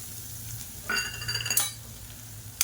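Crushed unpeeled garlic cloves, about ten, fry in hot oil with a low steady sizzle, a few metallic scrapes and clinks of a spoon against the pan cutting through.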